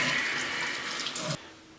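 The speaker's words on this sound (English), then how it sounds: "So let me turn on my water here." Water gushes steadily from a tap to wet a beard, a close, broadband rushing that cuts off abruptly near the end.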